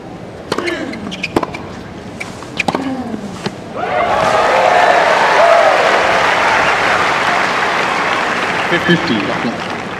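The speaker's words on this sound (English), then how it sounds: "He got a terrific cheer" At the 2004 Cincinnati tennis match between Agassi and Fish, sharp ball hits and court squeaks give way to a loud, sustained eruption of crowd cheering and applause that keeps roaring, with commentary voices heard beneath.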